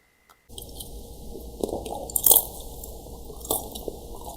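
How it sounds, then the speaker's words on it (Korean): Crisp crunching bites of fried crispy pepper chips (gochu bugak), several sharp crackles close to the mouth, followed by quieter chewing. "그리고 여기 들어있는 고추 부각도 한번 먹어볼게요."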